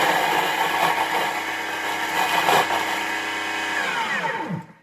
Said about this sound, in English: I'm just going to pop them all into my Thermomix. And then I'm going to chop them up